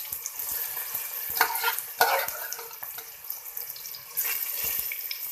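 Browned garlic and radish-turnip sabzi fry in hot oil while a spoon stirs the pan, giving a close, steady sizzle with wet scraping bursts and clacks against the pan.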